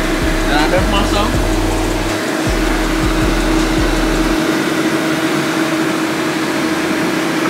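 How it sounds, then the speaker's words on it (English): A hair blow dryer runs as a continuous steady whir with a low hum, heard close up and loud through the whole stretch while a person talks over it, in a salon chair during a dreadlock styling session. "so now we under the blow dryer"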